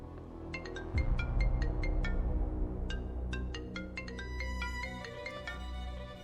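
A mobile phone ringtone plays an incoming call as a repeating melodic pattern of bright tones, steady and fairly close, over a low background hum, with no talk.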